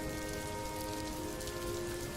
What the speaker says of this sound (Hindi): बारिश और तेज होने लगी थी